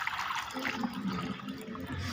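Cold water runs into a tub set out as a drinking bath for birds and animals, a steady, moderately soft rushing pour with a gurgling trickle and no voices.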